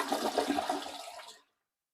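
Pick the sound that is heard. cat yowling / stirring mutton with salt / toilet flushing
toilet flushing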